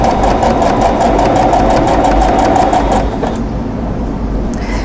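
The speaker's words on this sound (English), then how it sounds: "and sew them together." Domestic sewing machine chain-piecing quilt block pieces of medium and medium-light fabric, a loud steady mechanical whir with rapid stitching rhythm running for about three seconds, then stopping into a quieter background hum.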